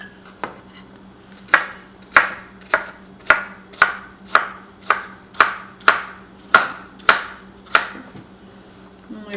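Knife chopping food on a board while prepping a hamburger filling for stuffed mushrooms: about fourteen crisp, evenly spaced chops, close and fairly loud over a low steady hum, with no talking.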